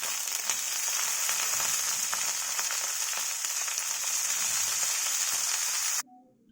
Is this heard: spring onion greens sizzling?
yes